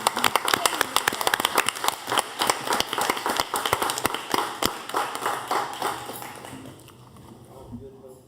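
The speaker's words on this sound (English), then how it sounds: "Let's give him a big round of applause." Applause at a school board meeting for school resource officer Ray Crawford: dense, fairly close clapping from a roomful of people that gradually thins and fades out near the end.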